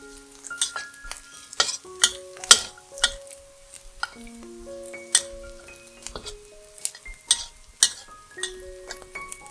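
Cloves, star anise and cinnamon bark are stir-fried with vegetarian mock mutton for braised pork rice, with a gentle sizzle under irregular scraping stirs and bright metallic clinks of a spatula against the pan, close up.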